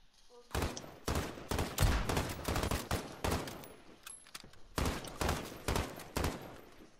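Repeated bursts of automatic gunfire in Call of Duty Warzone, loud close volleys arriving in rapid clusters with short gaps between them, dominating the scene with little talk.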